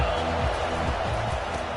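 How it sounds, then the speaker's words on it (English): A dense, steady roar of a large college football stadium crowd, Washington vs TCU, fills the air, a continuous wash of distant voices and noise without clear individual words. "This crowd bringing the energy and noise early."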